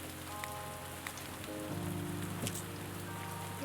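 Rain falling in the farming video game Pumpkin Days, a steady soft patter of drops with no talk, while faint tonal game music plays underneath.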